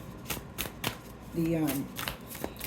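A deck of cards is shuffled in quick riffling bursts near the microphone while a person talks over it, with a short sung or hummed tone in the middle.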